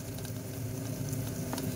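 Onions with ginger garlic paste frying in a pan, giving a continuous close sizzle with a dense crackle and light stirring throughout the short stretch.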